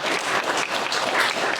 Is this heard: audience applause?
yes